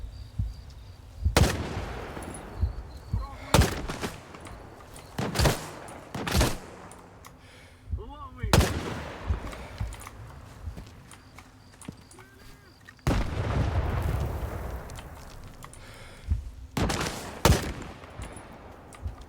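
Gunfire in the shooter game STALKER 2: sharp, loud single shots spaced irregularly over twenty seconds, some in quick pairs, with a voice talking between them.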